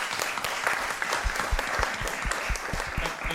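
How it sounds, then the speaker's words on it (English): An audience at an entrepreneurs panel workshop claps steadily, a close, even burst of applause from a modest crowd lasting a few seconds with no voices over it. "could we offer our panellists a round of applause"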